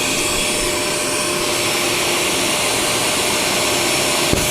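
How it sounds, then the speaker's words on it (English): An 8HP vacuum blaster roars close and loud with a steady, broadband rushing hiss of strong suction, unbroken throughout apart from a brief knock near the end. "Super vacuum blaster."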